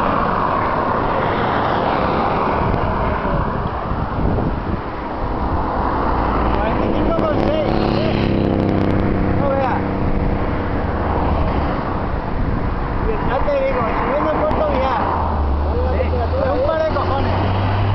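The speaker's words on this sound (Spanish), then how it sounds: "¿han venido todos los coches de Villar por aquí o qué?" Cars drive past on a road with a continuous engine drone and rising and falling swells of passing vehicles, while people talk over the traffic throughout.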